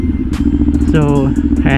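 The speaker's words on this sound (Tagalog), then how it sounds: "umiikot-ikot lang ako dito kasi nagpapainit lang ako ng motor" Motorcycle engine idling and running low while being ridden around slowly on streets in Las Piñas to warm up, a steady rumble beneath someone talking close to the mic.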